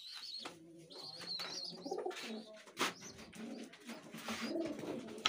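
Pigeons in a home loft, among young birds and nesting pairs, coo in repeated soft throaty calls with a few chirps, close by and fairly steady throughout.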